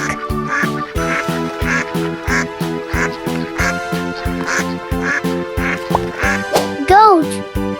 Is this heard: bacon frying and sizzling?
no